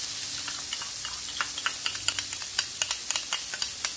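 Chopped onion sautés in butter in a pan, giving a steady close sizzle with small crackling pops, and there is no talking.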